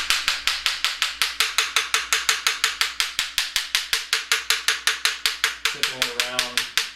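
A KYB rear shock absorber is tapped with a tool over and over, a steady, evenly spaced run of sharp metallic knocks. Near the end a low mechanical hum comes in underneath.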